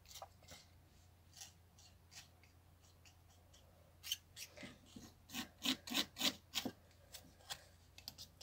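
A knife slices the barbs off a feather being made into a quill, giving quiet, dry cutting and rasping strokes, sparse at first and then in a faster run of close, crisp scrapes.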